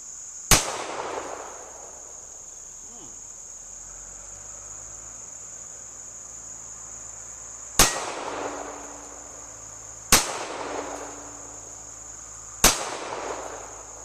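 Four sharp gunshots from a Tisas 1911 .45 pistol, loud and close, spaced irregularly with a long gap after the first, each followed by a short ringing decay over a steady high insect-like background.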